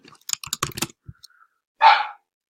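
A single dog bark, a short loud burst, follows a stretch of scattered keyboard typing and clicks in an indoor room.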